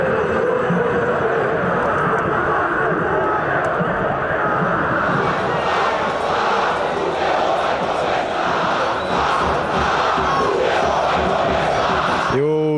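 Angry Goiás football crowd in a stadium, a loud continuous roar of shouting fans with whistles and jeers, dense and unbroken for the whole stretch, with a brief sharp swooping tone at the very end.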